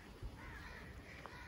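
Crows caw in the open air of a village, a few faint calls rising over a low, steady outdoor background.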